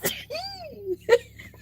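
A single sharp sneeze bursts out at the start, followed by a rising and falling voiced squeal. Another short burst comes near the end, close and fairly loud with no talk.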